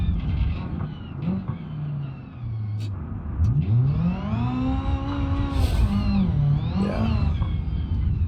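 A car engine in the driving game BeamNG.drive revs hard and climbs in pitch through the gears, whining up to over-rev at the end, loud and continuous.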